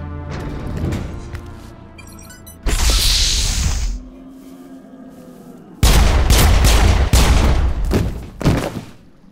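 Gunfire from a squad battle in the Mass Effect video game on Virmire, loud bursts and volleys of shots in several blocks, separated by quieter stretches of mechanical battle noise.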